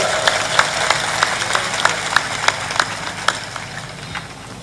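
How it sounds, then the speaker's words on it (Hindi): Rhythmic, steady clapping from an audience at a Hindi religious discourse (pravachan) gathering: a string of evenly spaced, sharp claps, moderately loud and fairly close, with faint background murmur. "जोर से ताली बजा दिया करो"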